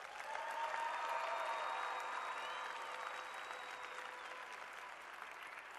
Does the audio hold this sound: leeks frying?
no